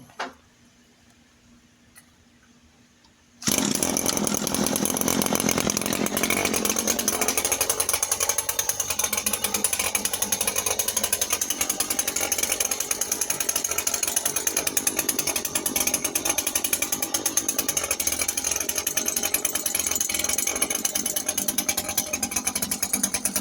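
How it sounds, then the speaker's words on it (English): A hedge trimmer starts up after a brief quiet moment and runs continuously, a loud, close, buzzing mechanical drone of the engine and reciprocating blades that holds steady to the end. "I gotta start the trimmer and move the blade a little bit"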